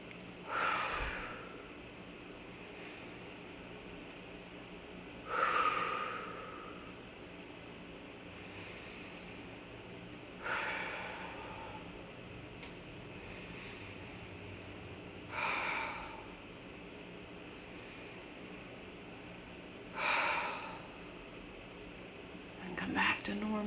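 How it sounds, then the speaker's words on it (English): Slow, deep breathing exercise with a long inhale and a long release every few seconds, five soft, close breath cycles over a quiet room hum. "Breathe in and then release on exhale."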